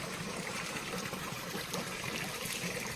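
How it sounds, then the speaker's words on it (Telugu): Water flows steadily out of Chilakala Gutta hill at Medaram, a continuous broadband rush and trickle close by that stays even throughout, with no voices. "చూడండి వాటర్ ఇక్కడ ఫ్లో వస్తుంది."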